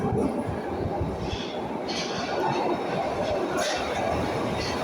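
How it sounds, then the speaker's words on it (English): A new Glasgow Subway train rumbles and rattles steadily as it pulls into the opposite platform, a continuous low mechanical roar with faint clatter and hiss. "Here comes the new Glasgow subway train on the other platform"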